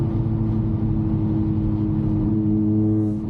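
A catless Toyota Camry downshifts in city traffic, its engine droning loud and close with a steady low rumble and rising harmonic tones near the end.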